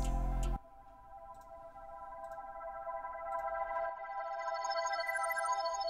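A Producer Grind accent kit sample with reverb: a sustained tonal, bell-like chord ringing steadily after a brief loud opening burst, with a slight lift partway through, heard alone.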